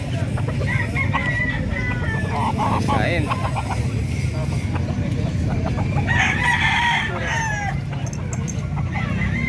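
Chickens cluck and a rooster crows loudly nearby at a livestock market in Malasiqui, over a steady low rumble, while people talk briefly in the background.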